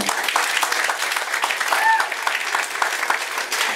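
At a student song-studio concert, the audience gives a bassist a short round of brisk, steady applause that stays close and even throughout.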